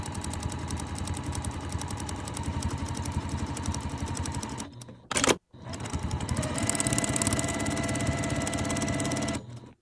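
A sewing machine stitches a quarter inch from a drawn line on fabric for half square triangles, running at a steady continuous whir close by, stopping briefly midway with a short burst of handling noise before resuming alone.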